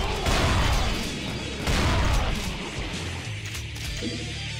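Enemy soldiers fire guns in Brutal Doom, loud bursts of rapid shots with crashing impacts in two heavy clusters, then a rumbling tail that fades into lighter scattered noise.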